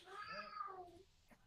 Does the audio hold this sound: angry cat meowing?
yes